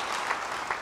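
A church congregation claps, a brief burst of steady, full applause with a couple of slightly sharper accents.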